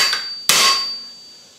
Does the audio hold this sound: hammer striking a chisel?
yes